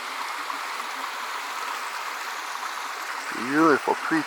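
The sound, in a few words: mountain creek flowing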